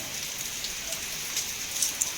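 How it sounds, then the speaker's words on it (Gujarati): Heavy rain pours down in Upleta in a constant hiss, with a few sharper drops striking nearby surfaces. "ફૂલ વરસાદ છે"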